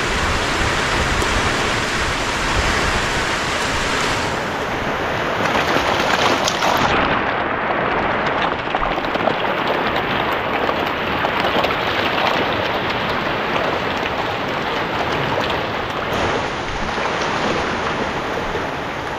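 Strong water flows steadily outdoors during the rainy season, a dense continuous rushing like a gushing stream that holds evenly throughout with no talk.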